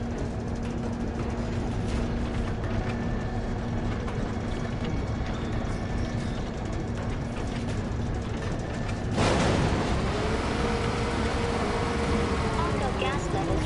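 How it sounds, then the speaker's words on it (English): A continuous rumbling whoosh from a vacuum drawing in Mako gas in Final Fantasy 7 Rebirth, building suddenly into a louder, brighter rush near the end, with a voice speaking over it. "We gotta use this stupid ass vacuum to do it."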